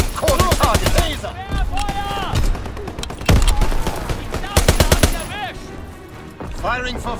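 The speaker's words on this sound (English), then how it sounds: "Fighter pilot ready for strafing run." Rapid machine-gun bursts and booming shots fill a World War II shooter match in Call of Duty: WWII as a fighter plane makes a strafing run, loud and close, with in-game voices calling out over the firing.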